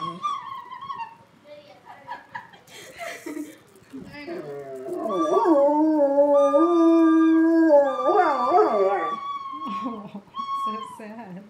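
A dog howls in long, wavering, rising and falling tones, loud and close, with people talking over parts of it.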